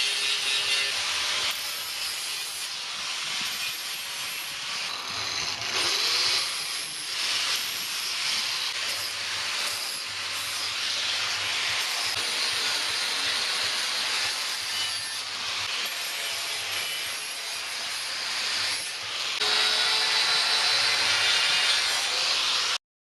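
A power grinder works the surfaces of welded aluminum angles for a truck bed cover, a continuous harsh bright hiss and rasp that shifts with pressure over more than twenty seconds, close and alone.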